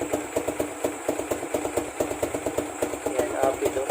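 A Honda RS 125 two-stroke motorcycle fitted with an Apido power pipe idles with a steady, fast, uneven putter, close and continuous with no pauses.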